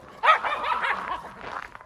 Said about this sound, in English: Puppy dog's fighting.